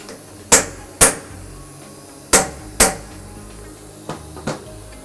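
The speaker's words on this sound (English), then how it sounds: "After clamping the workpiece into the vise key is used to tighten the jaws." A vise key tightens steel vise jaws onto a workpiece on a SINUMERIK 808D milling machine setup, making sharp metallic clacks in two pairs followed by two fainter knocks, close and distinct against a quiet hum.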